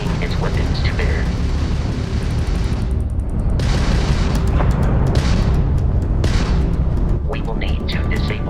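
Crimson Fleet pirate ship weapons firing in ship combat in Starfield: repeated heavy booming blasts and crackling bursts over a dense, continuous roar of battle noise.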